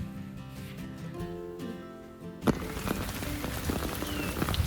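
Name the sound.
rain falling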